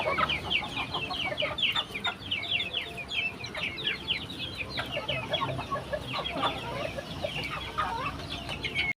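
Breeder chickens cluck busily at feeding time, a dense chatter of overlapping clucks and short calls from a flock close by, over a constant low background hum.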